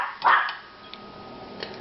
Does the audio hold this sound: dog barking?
yes